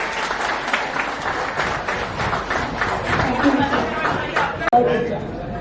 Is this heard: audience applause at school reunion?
yes